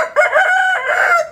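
An Aseel rooster, a fighting breed kept in a rooftop cage, gives one loud, close crow lasting about a second, clear and alone without any talk.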